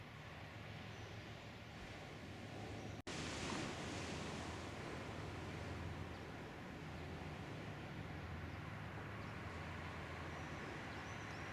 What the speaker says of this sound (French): D'ici, on entend le ressac.